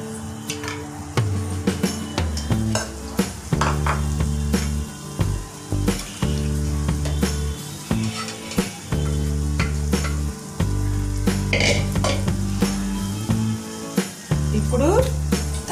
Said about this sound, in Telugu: ఇవన్నీ మిక్స్ చేసుకొని ఇది ఇలా మిక్స్ చేసుకోవాలి.